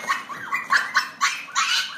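A male Shih Tzu and Bichon mix puppy barks and yips in a series of short, high, fairly close bursts, with no talk over it.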